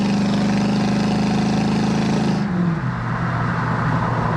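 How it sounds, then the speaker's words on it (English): Exhaust from a 1979 Pontiac Trans Am while driving: a loud, close, steady engine drone that abruptly drops to a lower, softer burble as the throttle eases off. "That exhaust is not too terribly loud."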